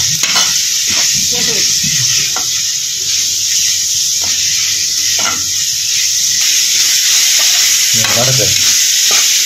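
Mutton stirred and fried in coconut oil for a Kanyakumari-style chukka varuval, a loud steady sizzle broken by repeated scraping stir strokes, close up with no talking.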